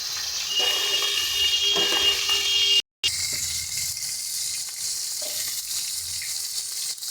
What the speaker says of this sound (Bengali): একই রকমভাবে আমরা সমস্ত মাছগুলোকে ভেজে নেব